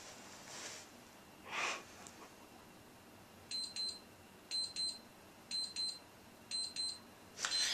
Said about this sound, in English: So when it starts beeping, like it will in just a second